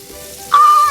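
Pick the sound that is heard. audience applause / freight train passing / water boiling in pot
water boiling in pot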